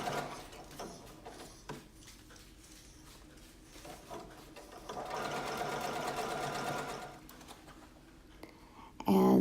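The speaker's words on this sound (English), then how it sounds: "remove the pins as you sew so you don't break your sewing needle in your machine" A sewing machine stitches a ripped crotch seam in jeans, running in short whirring bursts with a longer steady run in the middle, close by, with a few clicks and handling noises.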